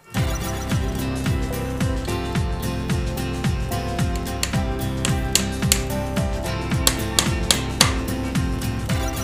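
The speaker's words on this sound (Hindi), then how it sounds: "लोग कील मार देते हैं" Nails being hammered into cane and bamboo furniture at a furniture factory in Patna: irregular sharp metallic taps that grow more frequent toward the end, set against a steady droning tonal background.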